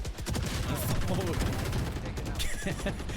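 Rapid gunfire from a Valorant match, rounds punching through a wall in a dense, loud volley that continues for several seconds, with a shooter's voice talking over the shots.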